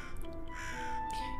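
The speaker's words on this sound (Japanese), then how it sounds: "あ、白いカラスだ。" A white crow caws in the cooperative puzzle video game Tick Tock: A Tale for Two, a single brief, soft caw over steady, quiet game music.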